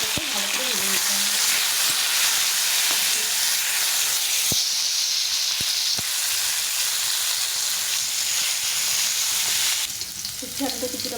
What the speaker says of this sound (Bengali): দিয়ে উচ্ছে আর আলুটাকে ভালো করে ভেজে নিতে হবে।